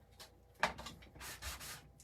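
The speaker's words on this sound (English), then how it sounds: "See, when I sand it, it just takes more of that red off." Sandpaper rubbed over a painted wooden board, a Christmas cross, lifting red paint; several short, fairly quiet scratchy strokes in an uneven rhythm, close by, with no talking.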